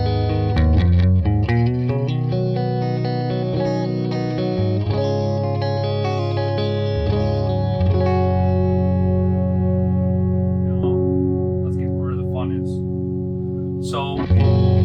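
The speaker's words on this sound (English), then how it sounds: "I have the guitar volume rolled back just a little bit." An electric guitar plays through a modified Trinity Amps tweed-style tube amplifier with the guitar volume rolled back slightly. Chords and notes ring out with a slightly gritty, sustained tone, heard alone with no talking.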